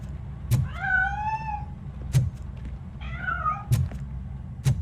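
A cat in the Robocop: Rogue City video game gives two drawn-out, rising-and-falling meows, loud and close, between sharp periodic thumps over a low rumbling ambient bed.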